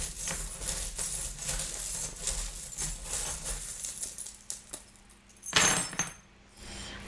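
Small charms tipped onto a table during a card reading, a jangly metallic clatter and clinking spread over several seconds, with a louder bright spill near the end.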